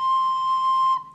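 A recorder sounds a single sustained C, fingered with the thumb on the back hole and the middle finger over the second hole. The steady, pure, whistle-like tone holds for about a second, then cuts off cleanly, with no voices.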